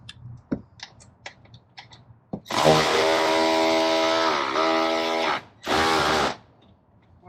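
Power tool loosening an 8mm bolt on a Ford Bronco intake: a few light clicks and taps, then a loud sustained whirring burst of about three seconds, a brief pause and a second shorter burst.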